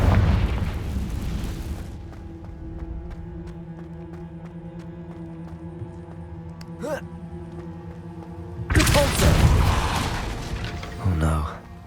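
A fire spell from Hogwarts Legacy detonates twice: a booming fiery burst at the start and a louder, crackling blast near the end, with a humming game backdrop in between.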